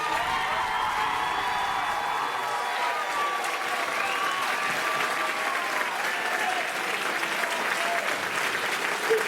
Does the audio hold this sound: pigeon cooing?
no